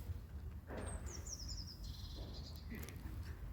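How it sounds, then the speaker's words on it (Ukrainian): Faint, high bird chirps and a short trilling call in a Dutch village in spring sound over a low background rumble, with a voice murmuring softly. "Весна пробуджується. Чуєте, як співають пташки?"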